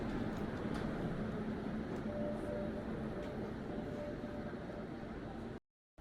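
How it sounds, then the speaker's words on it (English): Steady rumble and rattle inside a moving Barcelona metro train, with a faint high whine partway through, continuing evenly before a sudden cut. "we're going to go ahead and hop on the train now and start heading that direction"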